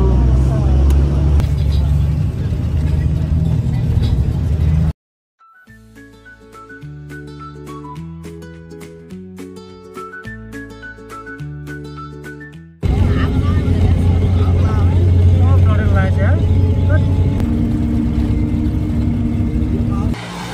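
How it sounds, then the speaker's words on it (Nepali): A bus leaving from Pokhara starts and pulls away with a loud, low engine rumble and road noise, broken in the middle by a stretch of music. A person talks over the engine. "8:23 बस स्टार्ट भयो। हिँड्यो बस हिँड्यो।"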